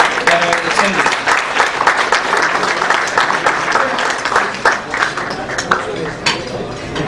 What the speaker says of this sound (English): Please, a big round of applause for all the community people that are attending.